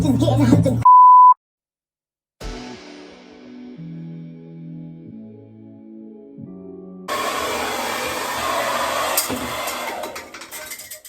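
Handheld hair blow dryer running during a box-braid styling session, a steady whooshing airflow that cuts in loudly in the final seconds after an electronic beep and a quiet musical stretch.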